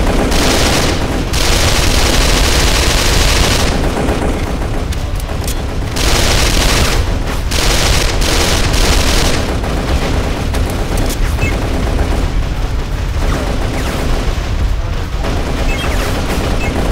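Rapid bursts of gunfire from a gun in the video game Darkest of Days, loud and close, with dense volleys broken by brief pauses.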